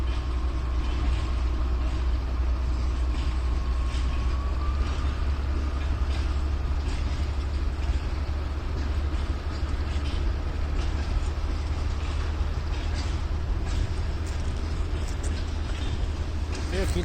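A freight train rolls past with a continuous low rumble and clatter of wagons and wheels, steady and fairly close throughout, with a brief tonal squeal early on and people talking under the noise.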